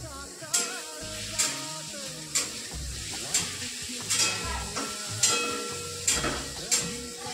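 Vegetables with rice, including bell pepper and carrot, stirred and frying in a pan, steady sizzle with repeated scraping stir strokes roughly every second, close and moderately loud.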